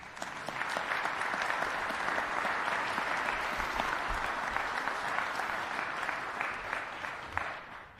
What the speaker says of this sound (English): So let's thank our panel again with a round of applause.